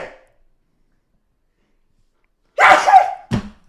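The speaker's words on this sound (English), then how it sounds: "I told you I might sneeze." After near silence, a person lets out one loud, close sneeze followed by a short sharp second burst.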